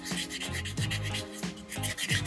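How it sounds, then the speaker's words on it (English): Sandpaper rubbing back and forth over a soapstone sea turtle carving, a steady scratchy swish repeating in roughly four strokes, close and alone. "I'm just going everywhere with sandpaper number 2"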